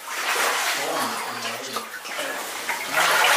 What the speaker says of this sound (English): We're in water up to our waist right now.